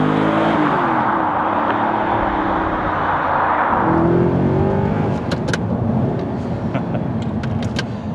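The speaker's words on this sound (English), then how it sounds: "go for a drive, and get behind the wheel once again of an Audi R8" Audi R8 V8 with a gated manual gearbox being driven, the engine droning loudly then revving and accelerating through gear changes, heard from inside or close by, with a few sharp clicks near the end and no talk.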